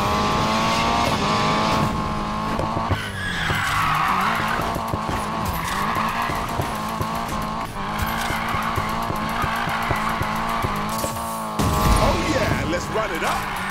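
Race car drifting in the video game Need for Speed Payback, with screeching tire squeal and revving engine sweeping up and down over music, plus brief talk over the game sounds.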